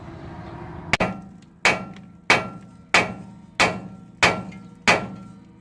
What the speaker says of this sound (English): you'll hammer on this. Mini sledge works good for that.